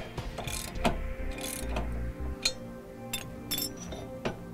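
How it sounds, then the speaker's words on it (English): A socket wrench ratchets as a bolt on a flip-up trailer jack foot is tightened: quick metallic clicks and clinks in uneven bursts, fairly quiet and close, without speech. "I'm using a 3/4-inch wrench and socket wrench."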